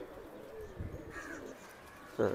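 A male black pigeon gives a low, soft coo, then a brief louder burst near the end, close by and mostly alone.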